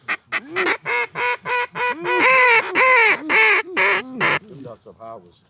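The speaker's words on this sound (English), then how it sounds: "Hey, look at this flight of ducks right above." Mallard ducks over a cold river during a hunt give a loud, close run of about a dozen rhythmic honking quacks, with the calls packed tighter midway before trailing into softer, quicker notes.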